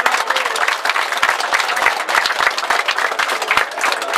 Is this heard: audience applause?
yes